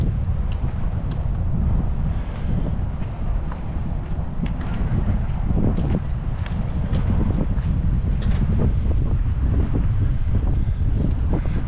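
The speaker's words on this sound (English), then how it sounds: "Wind has kicked up today, so a little bit chilly" Steady, loud wind buffets the microphone beside a lake, with gusty low rumbling roar filling the whole stretch and faint water lapping underneath on a chilly waterfront pier.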